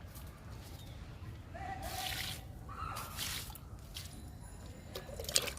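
Liquid is poured and trickles onto flowering plants in a pot, making soft splashing and dripping sounds that are faint and close against a low background hiss.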